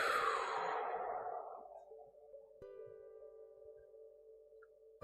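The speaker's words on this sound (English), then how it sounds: "breathe in again through your nose. Exhale through your mouth." A slow breath exhaled through the mouth during a guided meditation, a soft airy whoosh that fades out over a few seconds and leaves a faint sustained tone behind it.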